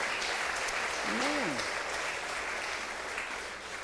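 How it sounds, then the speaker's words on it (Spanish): A church congregation applauds in a steady, even wash of clapping throughout, with a brief vocal cry rising and falling partway through. "Dale un aplauso al Señor por Pucallpa también"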